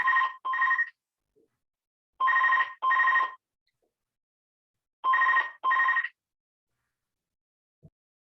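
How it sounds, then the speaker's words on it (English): Landline telephone ringing near a BT broadband hub, three pairs of electronic double rings separated by pauses of a couple of seconds, clear and close with no talking. "Oh, excuse that phone."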